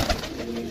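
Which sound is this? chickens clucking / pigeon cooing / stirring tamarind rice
pigeon cooing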